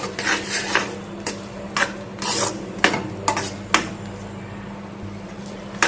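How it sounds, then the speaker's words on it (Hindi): A spoon stirs boondi through sugar syrup for motichoor laddu in a pot, making repeated wet scrapes and rubs in an uneven rhythm, close and moderately loud. "तब तक चलाएंगे तब तक ये चाशनी अच्छे तरीके से बूंदी सोख ना जाए"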